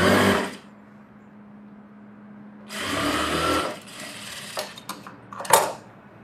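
A sewing machine stitching a blouse, running in a short buzzing burst at the start and again for about a second midway, followed by clicks and handling of the fabric and machine.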